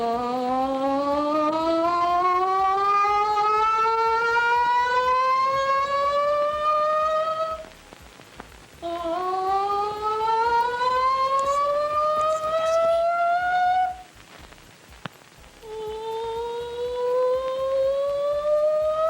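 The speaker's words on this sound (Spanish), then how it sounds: "Bueno, ahí teníamos las sirenas, ¿no?" Civil defense sirens wail loudly in three long rising sweeps, each climbing steadily in pitch, with brief gaps between them and no voices.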